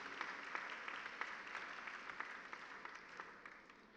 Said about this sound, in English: Congratulations, and a round of applause for the entire team is very much